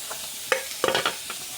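Shrimp with radhuni and green chillies fry in a pan under a steady sizzle, broken by a few quick, close scraping stirs.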